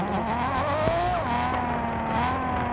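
G-Wagon exhaust in the Car Parking Multiplayer racing game, a steady droning engine note with rising and falling revs that holds at an even level throughout, with no talk over it.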